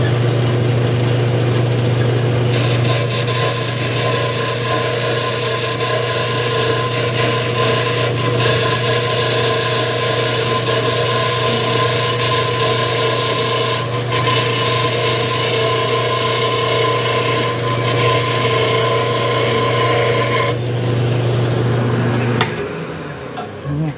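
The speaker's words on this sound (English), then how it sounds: "let me get over to the bandsaw and we'll cut her off" A bandsaw in a workshop cuts steadily through a metal plate during work on a Yamaha Twin Jet 100 ignition, a loud continuous grinding hum with a sustained low drone that stops abruptly near the end.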